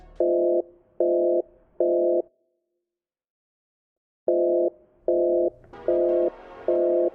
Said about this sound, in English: Then, finally, they call Peter